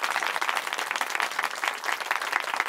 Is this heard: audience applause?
yes